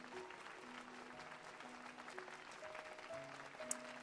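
A crowd in the Final Fantasy XIV Heavensward patch 3.3 game applauds, a steady clapping texture held fairly low beneath faint sustained tones and occasional sharp ticks.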